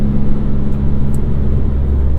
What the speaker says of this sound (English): We can see what road noise is like.